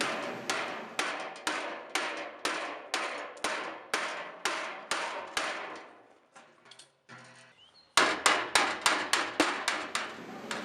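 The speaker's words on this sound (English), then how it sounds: "you can take a hammer while your angle iron is on there, and you can see how it really forms a nice sharp edge" A hammer strikes angle iron over and over at close range to sharpen its bent edge. The loud metallic blows fall in an even rhythm, pause briefly with some quieter clinking, then pick up again in a faster run.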